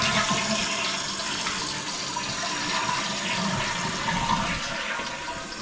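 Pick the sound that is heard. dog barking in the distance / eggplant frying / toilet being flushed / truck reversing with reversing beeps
toilet being flushed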